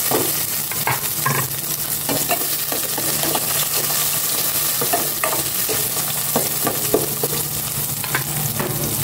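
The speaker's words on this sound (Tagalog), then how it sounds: "Magisa na po ako ng bawang." Garlic and onion sautéing in a pan make a loud, steady sizzle, with repeated spatula scrapes and clicks throughout and no speech.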